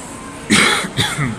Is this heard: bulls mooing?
no